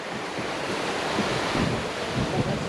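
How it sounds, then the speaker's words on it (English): Waves from Lake Superior wash onto the shore with a constant roar and soft swells of surf, mixed with wind buffeting the microphone. "There's Lake Superior right there."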